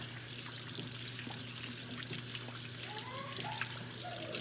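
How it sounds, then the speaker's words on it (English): Tap water running and trickling at a kitchen sink while hands are washed, a faint steady splashing over a low background hum. "now I'm gonna wash my hands again"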